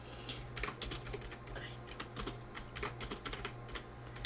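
Rapid, uneven clatter of keys on a computer keyboard, close and fairly quiet, with short bursts and pauses throughout and no talking.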